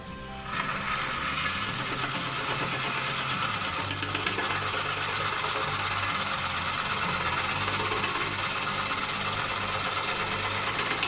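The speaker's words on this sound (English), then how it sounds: "So I'm going to do a pull cut now just to remove material quickly." A wood lathe spins a beech crotch bowl while a gouge makes a pull cut, giving a continuous, loud, even whirring hiss with a high whine that holds steady for the whole stretch after a brief quiet start.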